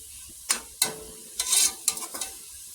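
A meat and tomato sauce cooks on low heat in a pan: a few sharp stirring or scraping knocks and a brief hiss of sizzle, spaced out over a quiet simmer.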